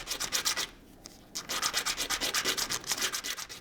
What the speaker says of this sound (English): All of them get their sharp edges rounded off.